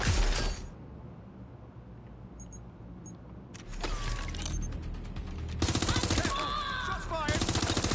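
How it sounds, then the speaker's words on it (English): Video game gunfire in Watch Dogs Legion: loud, dense bursts of rapid automatic fire with mechanical clatter and shattering, starting abruptly, dropping out, then resuming in long sustained volleys. "Shots fired! Taking cover!"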